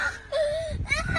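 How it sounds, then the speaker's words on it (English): A little girl in a car at a drive-through zoo park lets out a brief, wavering high wail and whimper, close and fairly loud, lasting about a second with faint background rumble. "right now you can hear the little girl is crying"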